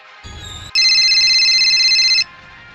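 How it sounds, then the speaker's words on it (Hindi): A mobile phone rings with a bright electronic ringtone, a steady tonal trill lasting about a second and a half before cutting off. "लो, मेरे पति देव का फोन फिर से आ गया।"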